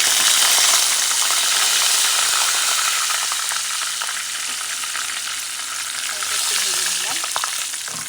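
Meat sizzles and fries in a pan with garam masala spices and black pepper, a dense, steady hiss with faint stirring scrapes, close and fairly loud, no voices.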